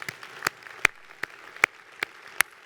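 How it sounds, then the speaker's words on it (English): A few scattered, isolated hand claps ring out from an audience at an Air Force Association keynote address, about seven sharp claps spread unevenly over under three seconds, fairly faint and with no voices. "You could probably clap for that, huh?"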